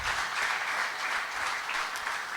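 A church congregation claps together during a service, producing a dense, even burst of applause that fills the room throughout.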